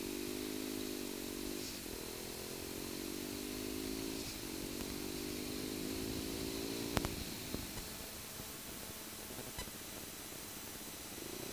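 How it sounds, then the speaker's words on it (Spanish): A Kawasaki Z125 2019 motorcycle engine drones during a braking test, with its steady buzzing note wavering and dropping under heavy wind rush; a couple of sharp clicks come near the middle. "vamos a probar a hacer una pequeña prueba de frenado"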